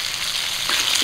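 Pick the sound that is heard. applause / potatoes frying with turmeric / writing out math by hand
potatoes frying with turmeric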